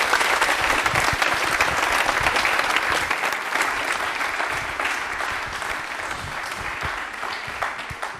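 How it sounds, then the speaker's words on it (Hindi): Loud, steady applause from a studio audience at a televised yoga programme, many hands clapping densely and continuously throughout with no talk over it. "तालियां हो जाए जोरदार।"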